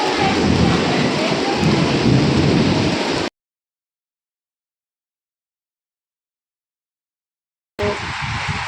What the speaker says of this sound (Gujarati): વીજળીઓ પણ જબરદસ્ત થાય છે ગાજે છે કેવું ચોમાસા જેવું